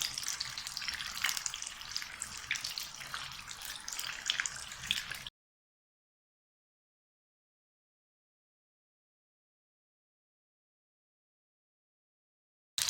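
Samosas deep frying in hot oil make a steady, close bubbling sizzle for about five seconds, then the sound cuts to silence.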